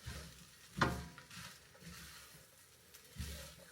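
Shrimp stirred into fried rice in a pan at home, a quiet sizzle with scraping and stirring strokes, including a couple of louder scrapes of the utensil against the pan.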